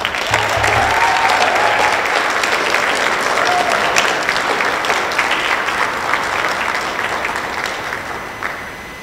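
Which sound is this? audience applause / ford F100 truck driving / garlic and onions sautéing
audience applause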